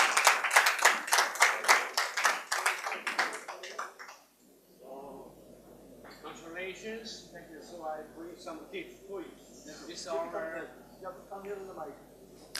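Audience applause for a guest at a souvenir presentation ceremony, a dense burst of clapping for the first four seconds that fades out as voices take over.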